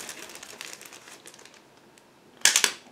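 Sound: opening a plastic bag

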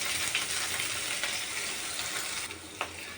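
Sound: onion, garlic and green chillies frying

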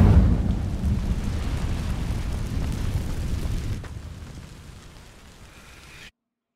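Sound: Incendio fire spell igniting dry vines, Hogwarts Legacy video game

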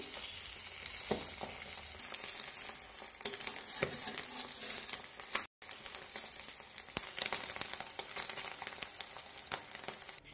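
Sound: beaten egg with salt frying in a pan

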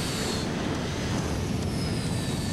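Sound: jet-powered fire truck engines at full throttle

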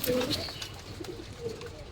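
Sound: pigeons cooing

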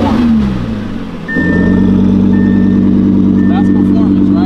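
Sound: 2023 Audi R8 engine starting, loud exhaust

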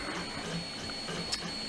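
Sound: 3D printer printing a keyboard section

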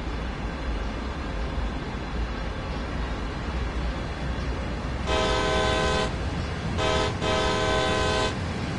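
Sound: train horn honking in Train Sim World 2 video game

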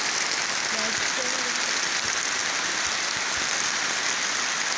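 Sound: heavy rain

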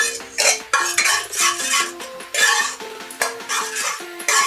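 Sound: mashing cooked mung dal in a pot

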